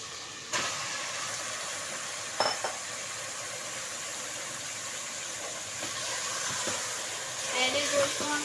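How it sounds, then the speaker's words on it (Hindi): Soft, steady sizzle of beef frying in ginger and garlic for beef pasinda, with a few faint clinks of stirring now and then and no talk over it. "पहले गोश्त को हम अदरक लहसुन में भूनेंगे, इसका कलर ऐसा वाइट होना चाहिए"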